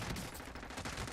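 Rapid SMG fire in Warzone, a quick continuous chatter of shots at moderate distance, steady throughout the short burst with no talking.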